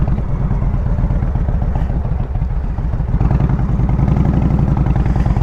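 A motorcycle is ridden at close range, its engine chugging with a steady, throbbing rhythm that swells slightly as the throttle opens.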